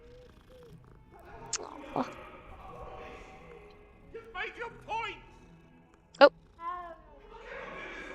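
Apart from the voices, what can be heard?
cat meowing and purring in video game Hogwarts Legacy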